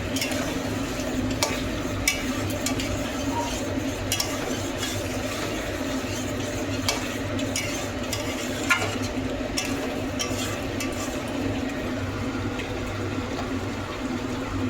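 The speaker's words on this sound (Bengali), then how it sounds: "কষানো হচ্ছে হ্যাঁ করবো তো কষা হোক আগে" Chicken being sautéed (kosha) in a covered pan with a little water released, a steady soft sizzle and bubbling with occasional clinks and stirring scrapes throughout, fairly close.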